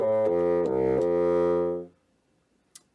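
A bassoon, the double-reed woodwind, plays a few sustained low notes alone for about two seconds, then stops, leaving near silence with a faint click.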